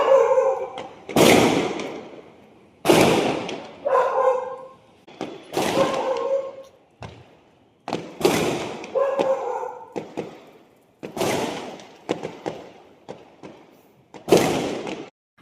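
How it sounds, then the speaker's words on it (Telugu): Firecrackers bursting at night after an RCB cricket win, a series of sharp bangs and thuds at irregular intervals, some in quick clusters, with short ringing tails and no talk. "నైట్ 1 వరకు ఏమో అలాగా క్రాకర్స్ కాలుస్తూనే ఉన్నారు, ఫుల్ సౌండ్స్"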